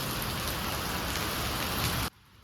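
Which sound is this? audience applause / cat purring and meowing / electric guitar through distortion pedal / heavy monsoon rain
heavy monsoon rain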